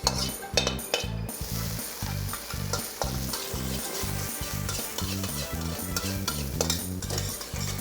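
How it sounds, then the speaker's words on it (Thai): Pork uterus (tatao) dry-roasting in a pan over high heat, with a continuous sizzle and busy, rhythmic metal spatula scrapes and clinks against the pan, close and loud, with no talk. "ผมจะใช้ไฟแรงๆครับ แล้วก็คั่วตะตอลงไปครับ"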